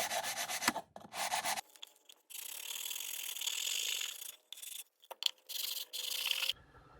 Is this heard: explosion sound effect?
no